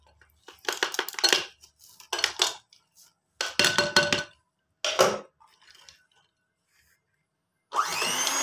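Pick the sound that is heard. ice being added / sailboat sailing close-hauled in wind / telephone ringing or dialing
ice being added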